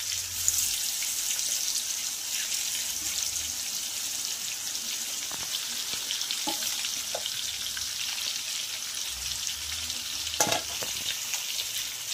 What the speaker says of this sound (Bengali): বাকি মাংসগুলো ভেজে নেব।